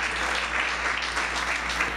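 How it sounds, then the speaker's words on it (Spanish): Church congregation applauding a guest during a sermon, a steady dense wash of clapping throughout, moderately loud and close with no clear voices on top. "Pues vamos a darle un aplauso a Tony, qué gusto."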